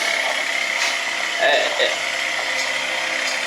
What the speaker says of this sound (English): Like something scratching inside the motor.